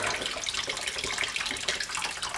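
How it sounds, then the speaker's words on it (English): Hot water forced through a CatMate cat fountain pump during cleaning, a continuous close hissing, splashing rush of water like a running tap, steady and alone. "I do force hot water through it."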